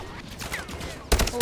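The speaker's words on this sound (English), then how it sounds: "There's enemy fire." A short burst of rapid gunfire in the video game Call of Duty: Modern Warfare 3 crackles over background game noise, with a louder volley near the end.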